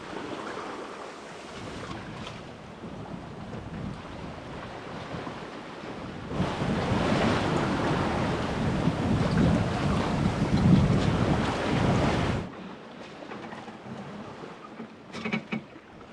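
A sailboat on a multi-day open-sea passage, from Florida toward Guatemala, carries a constant rush of wind and waves. A louder surge of water and wind buffeting in the middle sections fades back to a steadier wash.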